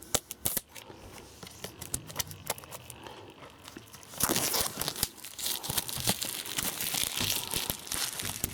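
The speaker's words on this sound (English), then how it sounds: "Now this I will need the scissors for." Plastic wrap crinkling and tearing on a Pokémon Violet steelbook being opened with scissors, with close, irregular snips and rustles that grow louder and denser midway, no talking.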